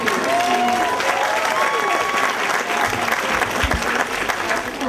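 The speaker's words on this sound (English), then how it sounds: "I want to again give a round of applause to all of our recipients" A crowd at a high school graduation ceremony claps steadily throughout, loud sustained applause with some cheering and voices mixed in.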